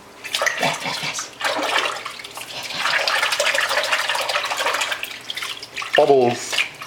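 A baby boy splashing his hands in bathwater during a bath given by his grandmother, a steady close wash of water with brief splashy bursts while adults talk over it.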